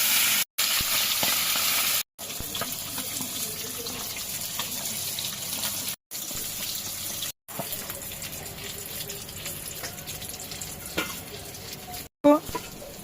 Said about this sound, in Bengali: এইবার ভাজবো।